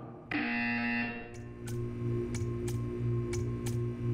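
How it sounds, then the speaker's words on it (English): A loud electronic buzzer tone in Portal 2 sounds for about a second, followed by evenly spaced ticking clicks over a low hum. "You will hear a buzzer."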